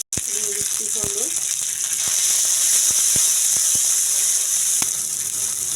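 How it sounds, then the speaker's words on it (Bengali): Cumin paste, salt and turmeric sizzle in a pan for a tilapia and cucumber curry, producing a loud, steady hiss with scattered sharp crackles and clicks throughout. "দিয়ে দিচ্ছি জিরা বাটা, এবার দিয়ে দেব লবণ, দিয়ে দিচ্ছি হলুদ,"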